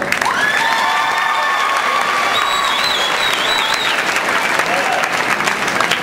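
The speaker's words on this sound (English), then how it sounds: "give them a round of applause, tell them how good they look" Pep assembly crowd in a school gym applauding a cheer squad, steady dense clapping with some cheering and whistles throughout, loud and sustained for the whole stretch.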